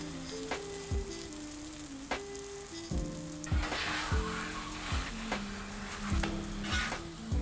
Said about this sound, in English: In a very hot cast iron pan, I'm adding my sesame oil, and then I'm going to add the pancake.